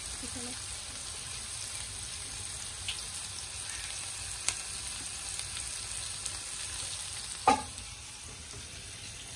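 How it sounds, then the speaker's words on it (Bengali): Beans and potatoes fry in a pan with a steady, quiet sizzle running throughout, broken by a few faint clinks and one sharper knock near the end; no voices are heard. "এদিকে বিন আর আলু ভাজাটাও বসিয়ে দিয়েছি"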